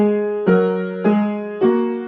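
A short piano tune played with both hands in three evenly spaced notes or chords, each struck clearly and ringing out in a quiet room.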